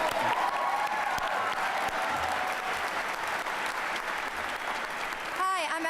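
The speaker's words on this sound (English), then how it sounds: "Let's give Sullivan a round of applause" A crowd at a community organizing gathering gives a sustained round of applause for Sullivan High School, dense steady clapping that fills the room before a voice begins speaking near the end.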